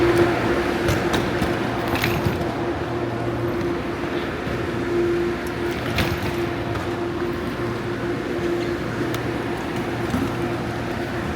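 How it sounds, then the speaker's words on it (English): A train carries passengers from Hong Kong Airport to Kowloon, producing a loud continuous interior rumble with a steady hum and occasional sharp clacks from the rails. "was a pretty efficient train ride."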